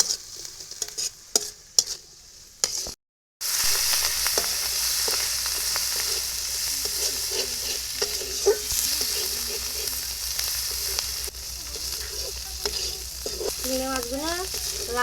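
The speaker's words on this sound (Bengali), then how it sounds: "সব কিছু ভালো করে দিয়ে চিংড়ি মাছ ভাজি করে নেব" Shrimp with turmeric and salt fry in a pan under a loud, continuous sizzle, broken early by utensil knocks and a brief silence, then a steady crackle with occasional stirring scrapes; nobody speaks.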